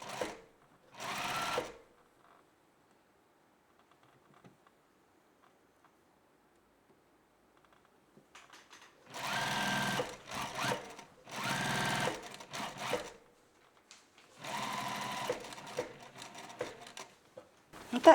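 A sewing machine stitches scalloped lace for a skirt in several separate bursts, with near, rapid mechanical whirring runs and quiet pauses between them.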